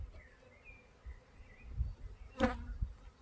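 Honeybees buzz around open hives during beekeeping work, a soft, continuous hum with a louder pass of a nearby bee partway through.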